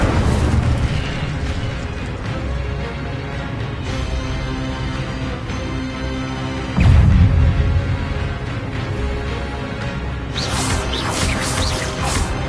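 An Incendio fire spell blasting in a wizard video game, a dense roaring rumble with a heavy burst partway through and a crackling flare near the end, loud and continuous with game music underneath.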